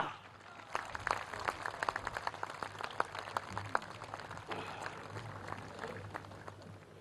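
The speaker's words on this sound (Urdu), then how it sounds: "ایک دفعہ پھر بھرپور تالیاں خواتین و حضرات" Audience applause at a national health card launching ceremony, a dense wash of many hands clapping steadily from a large crowd for several seconds, with no voices over it.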